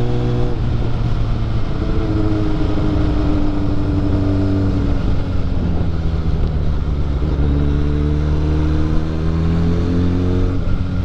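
A motorcycle engine drones loudly and steadily while riding, its pitch rising and falling as the rider works the throttle, close and continuous throughout.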